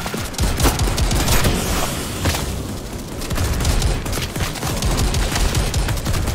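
Rapid gunfire bursts in a co-op VR zombie shooter game on a museum map, loud dense volleys of shots repeating close up with brief lulls between, no talking.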